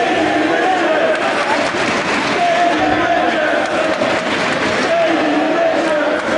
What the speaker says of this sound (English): And hearing it from the crowd here in Chicago